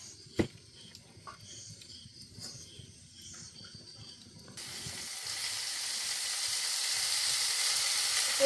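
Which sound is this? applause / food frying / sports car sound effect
food frying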